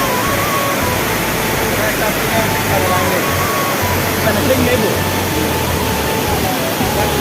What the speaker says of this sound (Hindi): और ये रहा फाइनली दोस्तों लांगमुकु वाटरफॉल।